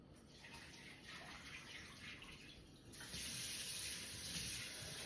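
Running tap water rinses rice in a pot, a steady close splashing hiss that grows fuller and louder partway through as the flow strikes the grains and water.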